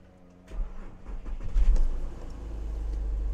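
A car's engine cranks on the ignition key after a crankshaft sensor replacement: a short burst of starter churning, then it catches and settles into a steady low idle, close and alone.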